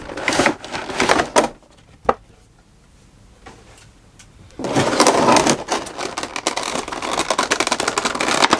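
Cardboard box packaging for an S.H. MonsterArts Final Wars Godzilla 2004 figure being opened by hand: bursts of rustling, scraping and tearing, a sharp snap, a quiet pause, then sustained crinkling and rubbing up close.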